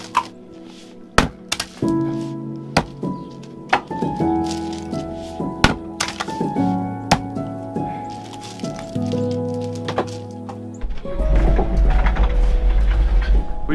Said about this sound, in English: We're re-splitting some of our wood because we want to get our fire nice and hot on these really, really cold nights.